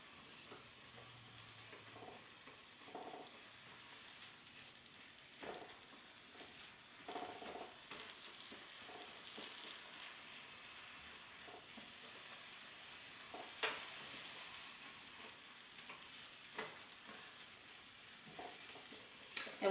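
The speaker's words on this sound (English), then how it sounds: "it doesn't take very long to cook this cauliflower rice when it's already riced" Cauliflower rice frying in a pan gives a faint, steady sizzle, broken by soft scraping and tapping as it is stirred, close by and without talk.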